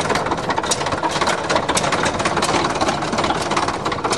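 A farm engine runs steadily with its injector pump and supply wheel turning inside, producing a dense, even mechanical clatter and hum close by that holds unbroken with no talking.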